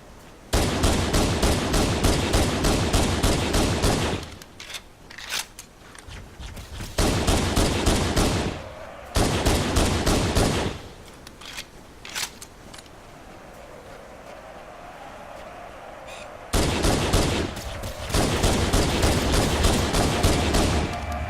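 Rapid pistol gunfire in Halo: Combat Evolved comes in loud dense bursts lasting several seconds, separated by quieter gaps with scattered single shots and low rumbling game ambience.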